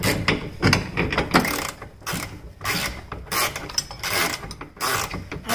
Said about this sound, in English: I think it's a 14 millimeter.